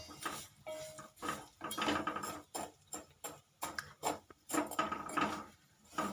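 Mango-flavoured vermicelli being dry-roasted in a pan, with a utensil scraping and clinking against the metal in short, irregular bursts, close and moderately loud, with no talking.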